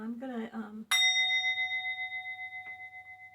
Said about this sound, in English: that was my singing bowl